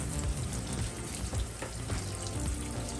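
Onions caramelizing with steak seasoning in a pan, a steady, dense sizzle that continues without a break.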